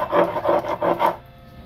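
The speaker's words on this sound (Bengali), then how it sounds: "প্রথমেই মশলাগুলো শিলে দিয়ে দিচ্ছি।" Fennel seeds being ground by hand on a stone grinding slab, heard as four close, even rasping strokes in a steady back-and-forth rhythm that then stops, with no voices.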